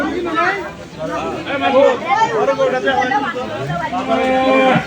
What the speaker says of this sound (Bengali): সবচেয়ে বড় গরু।